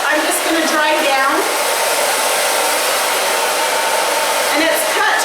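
A hair dryer runs continuously at close range while a stacked bob haircut is dried down at the back, giving a steady, loud airy whoosh throughout.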